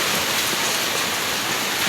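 Heavy typhoon rain from Typhoon Uwan pours down in a dense, loud, continuous hiss of water striking surfaces, with no break or voice.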